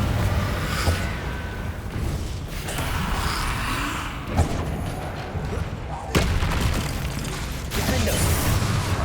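Confringo blasts cast in a Hogwarts Legacy battle: repeated bursts and crackling impacts over a dense, noisy combat backdrop, with a few sharper hits standing out.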